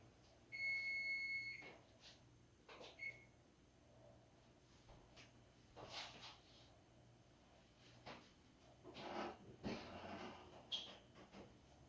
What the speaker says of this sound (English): The alarm's going off. Turn off the alarm.